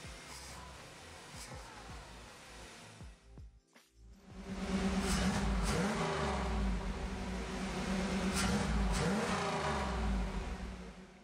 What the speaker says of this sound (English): Start the car and listen for any misfires.